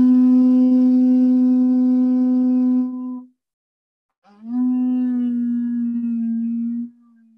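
Pale conch shell blown twice in two long, steady, loud horn-like blasts, separated by about a second of silence, the second note slightly lower and wavering.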